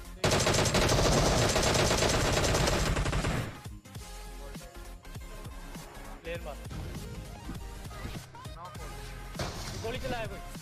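Rapid automatic gunfire in the PUBG battle game blasts loudly in a dense burst for several seconds, then gives way to scattered individual shots and impacts, with players talking over the action.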